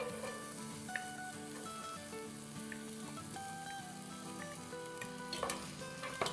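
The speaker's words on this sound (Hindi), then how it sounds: "और इसको बस जरा सा सौटे करेंगे अराउंड 1 मिनट" Chopped medium onion sizzles steadily in about three tablespoons of hot oil in a pan, a dense continuous crackle with occasional stirring scrapes, close and alone.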